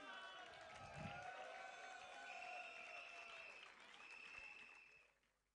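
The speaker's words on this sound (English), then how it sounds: "Keep cheering, keep clapping." An audience at a school event cheers and claps steadily, a dense crowd wash that stays loud throughout and fades out at the end, with voices mixed into the noise.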